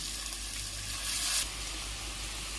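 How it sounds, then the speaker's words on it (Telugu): Finely chopped onions dropped into well-heated oil for a chicken curry, giving a soft, steady sizzle that briefly swells louder, with no talking. "ఆయిల్ బాగా వేడెక్కిన తర్వాత సన్నగా తరిగిన ఉల్లిపాయ ముక్కలు వేసుకోవాలి"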